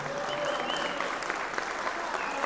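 Warm, sustained audience applause for a performer and his group at a live music show, dense and even throughout with some crowd voices mixed in.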